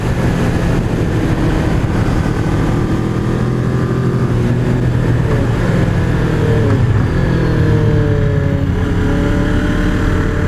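Kawasaki ER-6n motorcycle engine running on the road, a loud continuous drone that dips and shifts pitch partway through as the rider eases off and brakes, then picks up again, close and alone.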